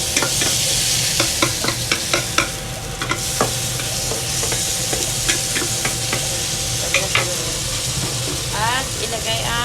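Tomatoes sizzle and fry in a pan while a utensil stirs them with repeated scraping clicks, a steady hiss running beneath, and an exhaust fan hums in the background.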